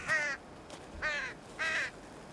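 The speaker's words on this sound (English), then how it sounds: "the magpies and crows in the buffer zone know where to come for their free meals" Crows and magpies call in the buffer zone of Korea's DMZ: three harsh caws spaced about half a second apart, fairly faint and distant, with no voices.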